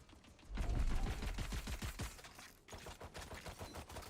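Rapid bursts of gunfire in the tactical shooter Valorant, a dense run of sharp cracks with booming low end, loud at first and then continuing more sparsely after a brief dip.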